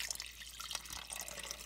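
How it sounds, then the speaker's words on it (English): A little water poured into a pot of simmering broth with garlic, a light, steady trickle with faint drips heard close up, no talking. "Then also a little bit of water."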